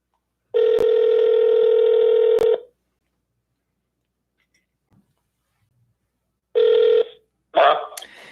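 A desk telephone gives a steady dial tone for about two seconds, then after a pause a brief tone returns and a short burst of dialing or ringing tones follows, close and clear with no talking.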